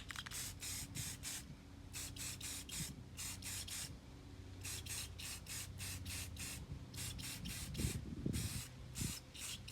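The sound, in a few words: spray can spraying model tree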